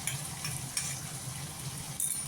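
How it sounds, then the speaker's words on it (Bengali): Onion, ginger, garlic and green chili fry in a pan with a steady bright sizzle, broken by a few sharp scrapes of a stirring spoon. "সেটাকে আবার ভালো করে পেঁয়াজের সঙ্গে ভালো করে আবার কষিয়ে নেব যাতে আদা রসুনের গন্ধটা না থাকে"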